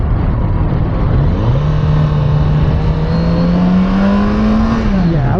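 A Kawasaki Z900 RS Cafe motorcycle engine revs loud and close, a rough steady drone that climbs in pitch, holds, then drops back near the end, heard alone without talk.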